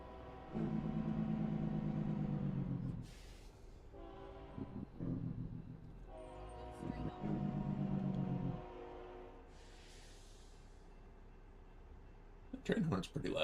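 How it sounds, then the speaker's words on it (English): Train horn in American Truck Simulator: loud, long blasts in three separate sustained pulses, heard from the cab of a Ford LTL 9000 truck with engine noise underneath and someone talking in gaps. "The train horn's pretty loud."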